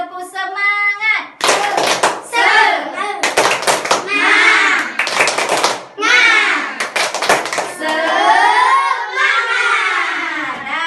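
Fifth-grade class performs a rhythmic group clap chant, sharp bursts of unison clapping alternating with children's chanted voices, loud and close.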